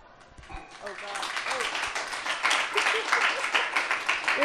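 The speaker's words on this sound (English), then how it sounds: "You're clapping for suicide, you realize." Applause from a poetry reading audience at a writers' conference, starting quietly as a few claps and swelling into steady, fairly loud clapping through to the end.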